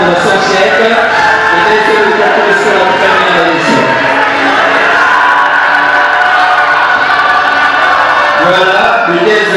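A crowd at the first-edition ESCOLA student contest prize ceremony in Congo applauds and cheers the second-place winner, a dense and steady roar of clapping and whoops that lasts throughout, with a voice speaking over it.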